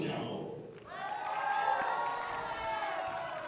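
A crowd at a boxing ring in the Westgate cheers and shouts loudly throughout, a dense roar of voices with whoops rising and falling before an amateur bout.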